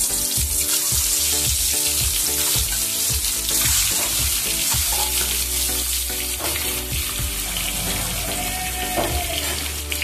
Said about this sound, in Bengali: আরেকটু তেল দিচ্ছি, একটু হলুদ নুন ডিমে একটু মাখিয়ে দিলাম। এবারে এটাকে ভেজে নেব।